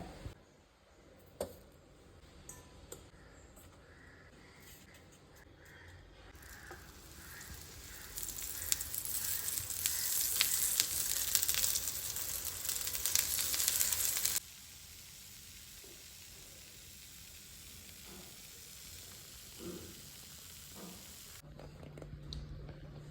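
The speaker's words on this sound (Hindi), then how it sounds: "अभी इनको जो है ना तवे पे डालते हैं और करते हैं फ्राई" Marinated jackfruit pieces frying on a hot tawa griddle, a steady hiss that swells into loud, dense sizzling at mid-clip before dropping back to a quieter crackle, with no talking.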